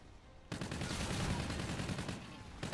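Gunfire in Call of Duty: Infinite Warfare, heard as a loud, dense, unbroken burst that starts suddenly and keeps going for about two seconds.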